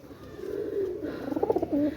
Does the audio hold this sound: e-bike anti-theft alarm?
no